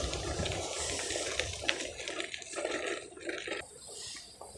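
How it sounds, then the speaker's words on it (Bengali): Roaring sea waves breaking on the shore, a steady rushing wash of water that swells and surges continuously at close range, with no voices over it. "সমুদ্রের ঢেউয়ের কি গর্জন"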